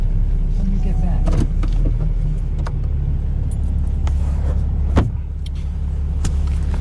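A car on a road in Maine slows and pulls over, its engine a loud steady rumble inside the cabin with a few clicks and knocks, no talk over it.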